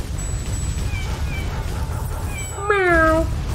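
Cat meowing in the video game Shellshock, one loud, clear meow rising out of quieter game background sounds near the end.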